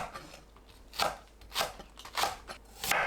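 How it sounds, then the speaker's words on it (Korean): A knife cuts green onions on the diagonal against a cutting board, four crisp chopping strokes spaced about half a second apart, close and clear with no voices. "파를 어슷 썰어줍니다"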